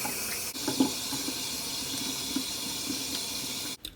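Warm water runs steadily from a tap into a sink during a skincare routine, a continuous close splashing hiss that stops abruptly near the end.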